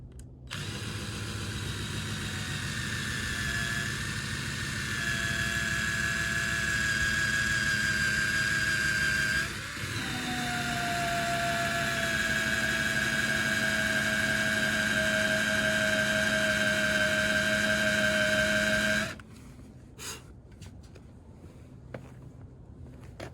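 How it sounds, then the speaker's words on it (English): A 3M adhesive eraser wheel spinning on a power tool to strip adhesive from a truck, a steady loud whine that holds for nearly twenty seconds with a brief dip midway, then stops abruptly. "so now we're gonna use the 3M adhesive eraser wheel"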